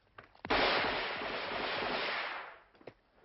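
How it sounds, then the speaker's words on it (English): Live automatic machine gun fire rings out in one loud, dense, sustained roar lasting about two seconds, with a few sharper isolated shots before and after. "virtually all the weapons are automatics. That is, machine guns. And the ammunition they're using is live."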